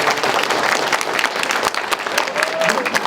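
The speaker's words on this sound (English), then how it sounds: "Can I get a stronger round of applause?" Sustained audience applause fills a school commencement hall, dense and steady clapping from a large crowd throughout, loud and close with no clear speech over it.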